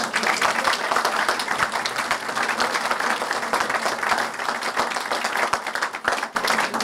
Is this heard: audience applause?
yes